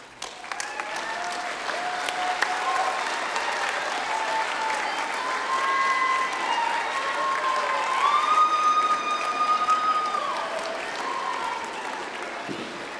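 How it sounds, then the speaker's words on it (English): Graduates at a university commencement ceremony applauding their families, a large crowd's sustained clapping filling a big hall for over ten seconds, with light cheering and a few tonal sounds rising over it. "offer a round of applause to these very special people for their love, encouragement, and unwavering support"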